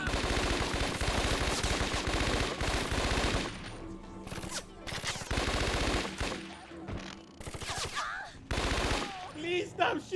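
Rapid bursts of gunfire in the video game Scarface: The World Is Yours, dense volleys of loud shots broken by short pauses, with shouting voices mixed in between the bursts.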